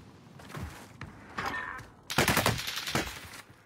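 Rapid automatic gunfire in a shooter video game, bursts of rattling shots coming in uneven clusters, growing louder and denser toward the end, with no talking.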